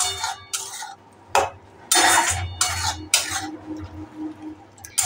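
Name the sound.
stirring salted okra in a pan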